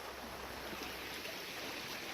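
Creek water rushing around an outside bend of a small gold-bearing stream, a steady, broad, faint hiss of flowing current with no voices.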